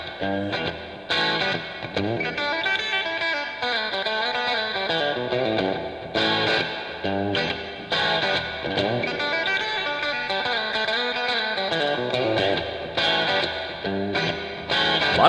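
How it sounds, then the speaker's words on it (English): Distorted electric guitar drenched in echo on an album recording, layered overdubbed lines ringing and repeating loudly over a steady rock backing. "A lot of echo."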